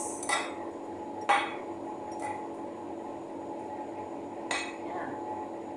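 Utensil clinks against a bowl while a mango and red cabbage salad is tossed, with four scattered light taps separated by quiet gaps over faint room hum.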